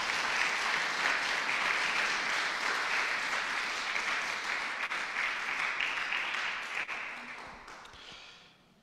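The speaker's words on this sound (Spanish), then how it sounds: "Vamos a darle un aplauso al Señor" Church congregation applauding together during a Spanish-language service, a loud sustained round of clapping that holds steady for several seconds before tapering off into quieter scattered claps at the end.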